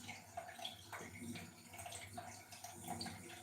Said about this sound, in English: I'm gonna wash my face um, while y'all watch me wash my face